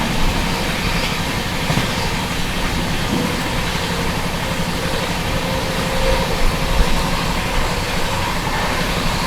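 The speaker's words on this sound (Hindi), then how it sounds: "सुबेदारगंज देहरादून एक्सप्रेस।" Subedarganj Dehradun Express passing close by at speed, a loud, steady broadband rumble and rattle of wheels and carriages that continues without letup for the whole stretch.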